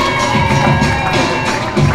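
Crowd noise at a women's soccer match between Canada and the USA, a dense, steady wash of cheering and shouting that swells and dips throughout without a clear break.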